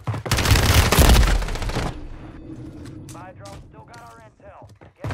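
MCW rifle gunfire in Call of Duty: a loud, dense burst of automatic fire over the first two seconds, followed by quieter game ambience with voices talking.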